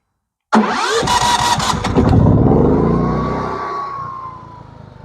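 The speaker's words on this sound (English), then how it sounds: "let's go ahead and start the primary generator first. Power on, switch to pump gas, hit that start button." A GM9000iED inverter generator's engine cranks with a quick rattling starter and catches, revving up loudly and close, then settling into a steady running drone that eases slightly in pitch.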